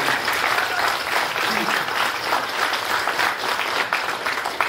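An audience at a phygital sports competition final in Tatarstan applauds with dense, even clapping that carries on throughout the stretch, close and fairly loud.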